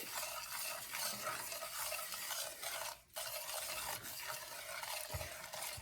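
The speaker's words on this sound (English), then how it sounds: "I'm going to put my sugar and egg yolks, and I'll start to whisk" Sugar and egg yolks whisked in an unheated pan for coconut pecan frosting, a continuous quiet rhythmic scraping and swishing with a brief pause midway.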